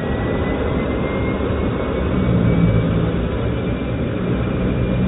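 Airliner jet engines at takeoff thrust roar as a loud, steady, dense broadband rumble that swells slightly midway, heard from inside the cockpit with no voices.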